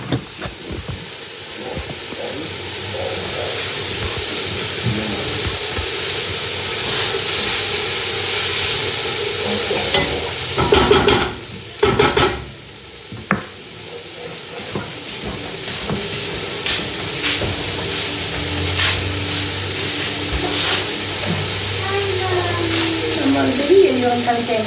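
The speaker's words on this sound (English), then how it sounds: "Here's the onions and the peppers. Cooking a little bit of olive oil." Onions and peppers fry in a little olive oil for chili, a steady loud sizzling hiss throughout with a few sharper crackles and bumps midway, and faint background sounds.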